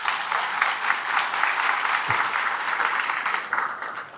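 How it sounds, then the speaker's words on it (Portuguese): An audience at a supermarket-industry talk applauds, with sustained close clapping from a crowd that keeps a steady loud level for about four seconds. "Uma salva de palmas aqui para o seu Elias."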